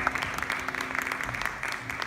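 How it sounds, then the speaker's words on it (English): An audience in Liverpool applauds the actress playing Tinkerbell in a Christmas Peter Pan production, many hands clapping in a continuous, lively patter with faint crowd murmur underneath. "Please give a round of applause for Miss Claire Simmo,"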